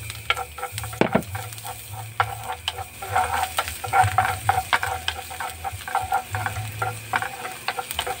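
Garlic frying in a pan for fried rice sizzles up close as a spatula stirs and scrapes in quick, repeated strokes that form a busy clattering rhythm over the hiss.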